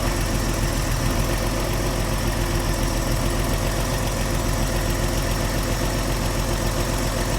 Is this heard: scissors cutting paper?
no